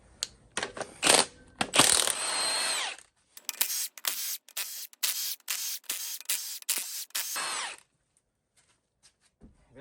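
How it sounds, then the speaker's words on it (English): Ratchet loosening head bolts on a Ford 5.4 Triton engine during a teardown: a burst of sharp metallic clicks, then a steady series of loud, close ratcheting strokes in quick succession, ending in quiet. "So I try to detorque these in a sequence pattern to save the block more than the head."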